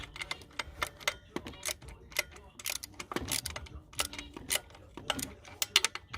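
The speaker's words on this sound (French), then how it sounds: "Il faut sortir le cliquet." A ratchet clicks in short, irregular bursts while bolts are tightened during turbo fitting on a 1.7 CDTI Opel Astra H, close and fairly quiet, with no one speaking.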